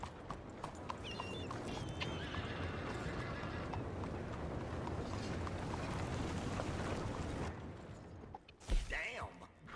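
A horse in the Red Dead Redemption II video game clip-clops on hooves with creaking tack, then neighs briefly near the end, heard at low volume alongside faint game ambience.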